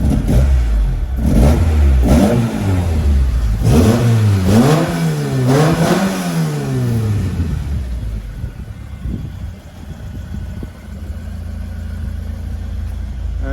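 Mk2 Ford Escort with a 2.0L Pinto engine on twin 45 carburettors, loud and close: several sharp rev blips, then a rising and falling run of revs that settles to a lumpy idle.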